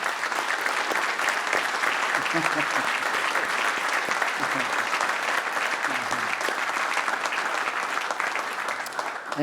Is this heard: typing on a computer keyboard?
no